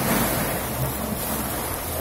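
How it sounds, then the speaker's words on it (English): Ocean waves at high tide roll in steadily beside a cave, a continuous full-bodied surf wash with wind buffeting the microphone throughout. "Listen to the waves."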